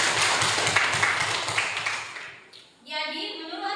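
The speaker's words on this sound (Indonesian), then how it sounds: "Ya, aplaus untuk Askiani." Classroom applause for a student during a religious studies lesson, a burst of dense clapping from a group that fades out after a couple of seconds, followed by quieter room sound.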